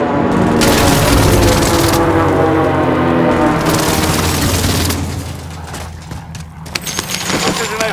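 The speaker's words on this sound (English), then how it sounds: "Precision airstrike missed." Heavy airstrike explosions and rumbling blasts in the Call of Duty: Warzone Pacific video game, a loud sustained barrage over the first seconds that fades into scattered crackling impacts and debris.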